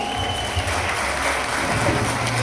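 An audience claps loudly and continuously, a dense, steady wash of many hands that fills the whole stretch without pause, close and even in level, with only a faint murmur of voices underneath.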